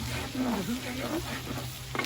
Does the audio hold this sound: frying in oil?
yes